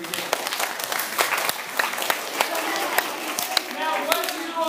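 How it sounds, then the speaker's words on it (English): A school audience applauds at the start of an Oregon Battle of the Books gathering, producing a steady wash of many hands clapping, moderately loud and continuous throughout. "So give yourselves a round of applause as we begin."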